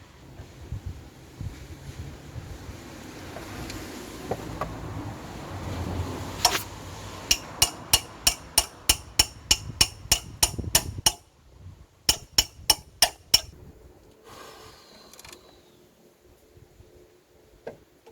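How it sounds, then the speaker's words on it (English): A hammer strikes a seized bolt on a Mk1 Ford Focus in a quick run of sharp metallic taps, about a dozen evenly spaced, a short pause, then a few more hits, close and loud over quiet background. "just get a hammer and hit"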